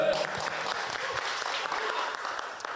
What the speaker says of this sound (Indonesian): Bisa minta tepuk tangan untuk Honda?